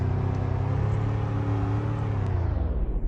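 A car driving in the Roblox game Greenville, a steady loud engine drone with a smooth humming tone that holds level throughout, no talking.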